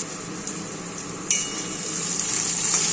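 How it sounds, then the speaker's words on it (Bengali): Chopped capsicum hits hot oil in a pan and breaks into a steady, close sizzle that swells sharply partway through and keeps hissing loudly to the end, with a faint clink early on. "সেই ক্যাপসিকামগুলো তেলের মধ্যে ছেড়ে দিচ্ছি। খুব ভালো করে ভাজা ভাজা করবো।"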